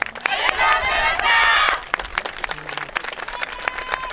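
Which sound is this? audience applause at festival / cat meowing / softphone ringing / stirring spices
audience applause at festival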